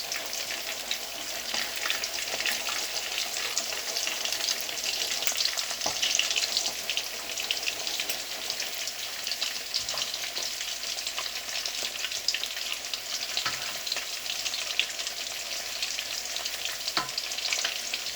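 Chicken pieces sizzle steadily in a hot pan while being stirred, a continuous bright frying hiss broken by occasional scraping clicks, close and fairly quiet, with no voices.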